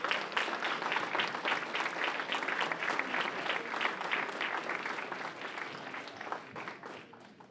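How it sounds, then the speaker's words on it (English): An audience at a town talk event gives the speakers a big round of applause, dense sustained clapping that holds strong before gradually thinning out. "may I get one more big round of applause for our speakers"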